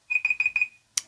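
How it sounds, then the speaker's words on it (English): A kitchen-style timer alarm goes off with four quick bursts of bright electronic beeping, loud and close, followed by a single sharp click. "Oh, there goes my timer."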